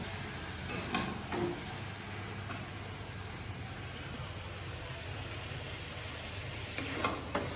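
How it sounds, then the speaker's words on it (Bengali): Half a kilo of chicken cooking in a pan gives a soft, steady sizzle with a few brief stirring clatters near the start and end, low in level and with no talking. "এই যে চিকেন বানাচ্ছি আমি"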